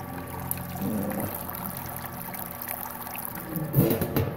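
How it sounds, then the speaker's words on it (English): Sparge water pours and trickles steadily into a mash during fly sparging on a brew day, a soft continuous splashing with a few louder gurgles near the end. "Fly sparging right now."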